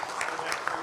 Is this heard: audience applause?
yes